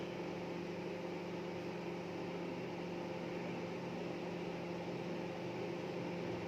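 A microwave oven runs steadily while cooking salmon, a constant hum with a broad whirring fan and motor noise that holds unchanged throughout, moderately loud with no voices.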